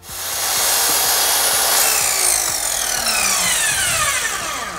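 Pallet timber being cut with a power saw into four equal-length workbench legs, a loud steady rasping whine running nearly five seconds close by, no talk.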